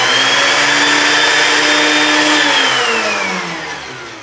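An electric wood planer runs with a loud, close, high-pitched motor whine, holding steady for a couple of seconds before winding down as it loses speed.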